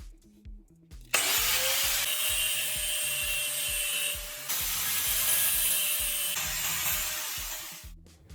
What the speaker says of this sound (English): Use your cutting wheel to make 2 clean notches on both sides near the end of the handle.